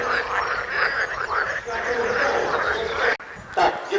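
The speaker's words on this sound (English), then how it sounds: "It's all being made by frogs." A chorus of frogs croaks in a dense, continuous, rasping mass outdoors in Zamość, Poland, loud and close, with a sudden break near the end.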